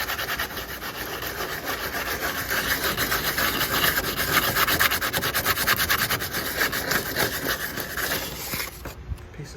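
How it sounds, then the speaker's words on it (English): Sandpaper rubbing rust off a Jeep Wrangler TJ door panel, a steady close scratchy back-and-forth scrubbing that continues without pause and cuts off near the end. "I've just slid a piece of sandpaper down here and I am cleaning off that rust surface"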